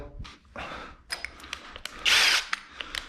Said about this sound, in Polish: teraz potrzebuję poprawić to wiertłem dwunastką